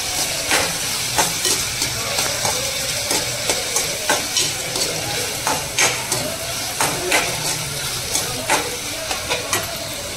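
Spice tempering sizzles in a pan with onion and homegrown village tomatoes for a spicy Malvani potato dish, a steady hiss broken by regular stirring scrapes and crackles.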